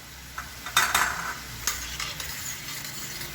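Zucchini sautéing in a pan: a light, steady sizzle broken by a few close scrapes and clinks of a utensil stirring against the pan.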